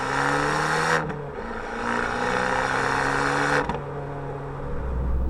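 Abarth 595 Competizione hot hatch engine and exhaust revving loudly nearby, pitch climbing through gears with brief drops at each shift and a rasping tone throughout.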